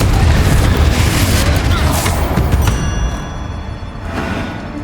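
A Confringo spell explosion in the video game Hogwarts Legacy, heard as a loud, sustained rumbling boom up close that fades slightly toward the end, with a voice faintly mixed in.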